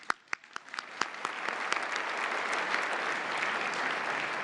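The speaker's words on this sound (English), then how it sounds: "One more round of applause, please." Audience applause at the White House Correspondents' Association Dinner, starting with a few sharp claps that quickly swell into a steady, dense wash of clapping from a large room, with no voices over it.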